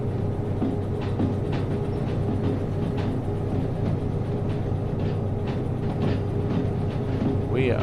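A locomotive in the train simulator Derail Valley rumbles steadily along the rails, with a constant low engine drone and faint rhythmic clicks of the wheels throughout.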